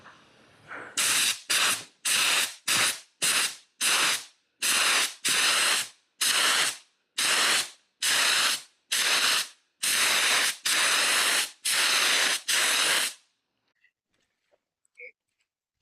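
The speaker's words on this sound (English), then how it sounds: "So I'll glue this up, and then we'll get this stuck down" Aerosol spray adhesive applied to a Ford Focus Mk4 door card in about fourteen sharp, loud hissing bursts, each about half a second long, close to the microphone, followed by near silence.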